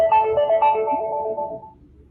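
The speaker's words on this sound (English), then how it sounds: "oh, that's my phone." A mobile phone ringtone plays a short bright electronic melody of quick repeated notes, fairly close, fading out after about two seconds.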